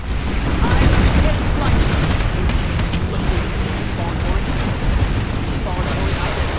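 Video game firefight with dense, continuous bursts of gunfire and booms, loud and chaotic, while voices talk over it.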